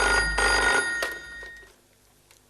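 A telephone rings on the other end after a call is placed to a film producer in Madras. A short, bright ringing burst starts loud, then a second shorter ring follows and fades to near silence.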